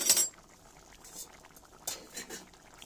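A metal lid clinks onto a metal bowl with a sharp ringing tap at the start, followed by softer scattered clinks and faint bubbling from the pot nearby.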